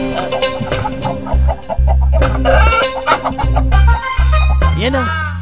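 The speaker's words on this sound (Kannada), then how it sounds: "ಕೋಳಿ ಕೋಳಿ ಕೋಳಿ ಹಿಂದೆ ಬಿದ್ದಿದೆ ಗುರುಗಳೇ" A chicken clucks excitedly in quick, repeated bursts and ends in a sharp squawk, set against a steady low background of music in a period comedy scene.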